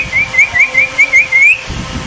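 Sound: person whistling to call an animal

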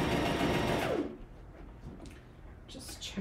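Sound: sewing machine stitching fabric cut on the bias

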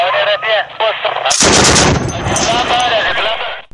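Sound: gunfire and artillery in battle in Kunduz

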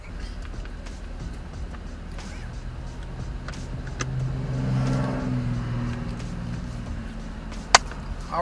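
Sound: Camaro 2SS convertible driving on the road

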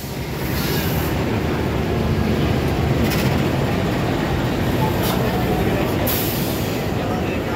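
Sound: Taksaka passenger train entering track 2

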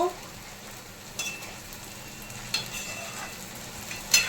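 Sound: vegetables being heated and stirred in a pan

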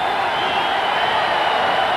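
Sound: arena crowd cheering at NBA Finals game

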